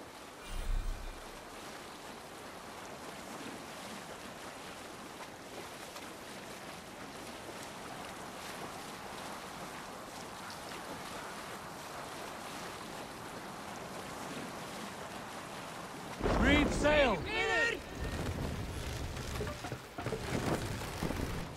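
A Viking sailing ship cutting through wind and waves in Assassin's Creed Valhalla, steady rushing wind and water wash throughout, swelling into louder splashing surf near the end.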